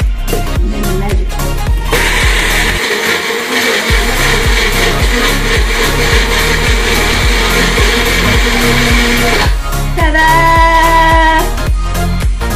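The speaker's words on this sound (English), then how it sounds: "And then we'll put our little blender thing on here." A small blender whirring steadily as it purees pesto, loud and close, with a brief pause and a higher strained pitch near the end, no voices over it.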